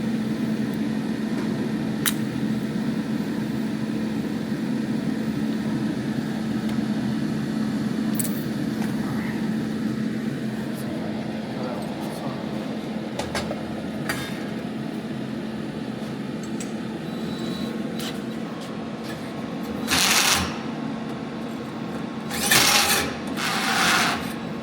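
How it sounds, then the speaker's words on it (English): A hole saw cutting through steel for a Pontiac GTO's car headers: a steady droning mechanical whine runs throughout, with a few brief louder bursts toward the end. "I'm gonna try and cut this one out before I fully weld it."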